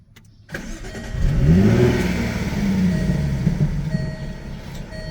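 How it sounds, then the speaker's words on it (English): A 2015 Jaguar F-Type engine fires up and revs hard, settling into a loud, throaty growl up close. "When it revs, every time you crank this, it will rev up"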